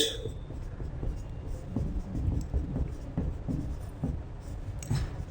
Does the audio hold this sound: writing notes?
yes